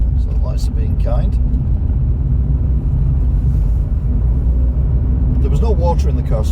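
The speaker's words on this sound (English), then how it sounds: "The car sounds a bit quieter as well." Steady low road rumble from inside a moving car on a UK drive, loud and constant throughout, with brief bits of a voice talking near the start and end.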